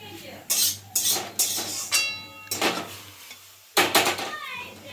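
A kadai wok set on a home stove for cooking curry, with a run of loud, close metallic clanks and scrapes, about six sharp hits spread over a few seconds.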